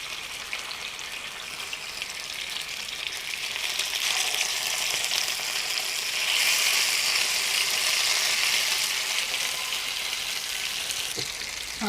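Fish shallow frying in coconut oil in a hot pan for fish molee, a loud, continuous hissing sizzle that swells in the middle and holds steady throughout, close up and with no voices.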